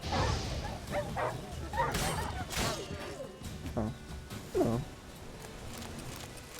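Dogs in the video game The Witcher 3 give a few short barks and yips amid game noise, with a voice talking over them.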